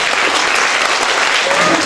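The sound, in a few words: graduation audience applause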